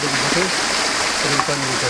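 Irrigation water at Wadi Sheez runs in a steady broadband stream toward date palms, continuous and fairly close, with people talking over the flow.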